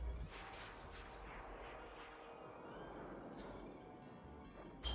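Cannon fire from the deck of an airship in the video game Skies of Arcadia Legends: a steady, rumbling barrage of distant-sounding booms that blend into a continuous roar, with no voices.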